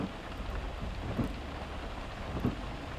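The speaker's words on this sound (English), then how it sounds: "But this signal is heavily interrupted by massive storm." Steady, dense rain pours throughout a storm in the video game Psycho-unstable Journey, with two low thunder rumbles swelling briefly, one near the middle and one near the end. No voices.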